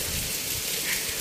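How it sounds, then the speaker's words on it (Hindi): Heavy rain pours down around a house in a steady, dense hiss of drops. The rain is fairly loud and continuous through the short stretch, with no voices. "बारिश बहुत तेज हो रही है"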